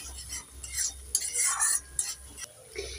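Spices with turmeric stir-fried in a pan for a vegetarian Bengali potato dish, with bursts of spatula scraping and light metallic clinks over a soft sizzle and a low steady hum, close and without talk.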